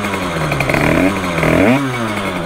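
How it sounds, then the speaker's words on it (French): A motorcycle engine revving up close, its buzzing note rising and falling before settling into a steady idle. "On va allumer la moto et voir ce que ça fait."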